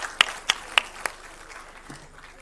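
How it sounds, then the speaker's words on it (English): Audience claps at a World Telecom Day function: four sharp, evenly spaced claps close by, then the hall falls nearly quiet. "So can we have a huge round of applause?"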